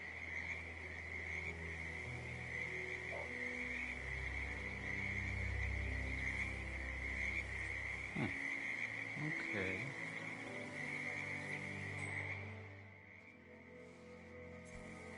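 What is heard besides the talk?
poison frog croaking, from the video game Hitman 2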